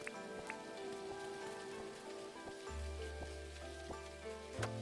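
Rain falls steadily in the video game Dinkum, a continuous hiss of drops on the ground under a layer of game music with sustained tones, alone and without talk.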